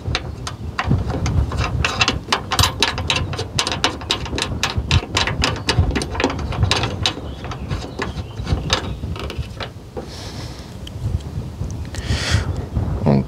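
A ratchet tightens an M8 nut on the bonnet bracket of an MG5 Electric, giving rapid, steady clicking strokes for about nine seconds before a brief pause and a few more clicks close by.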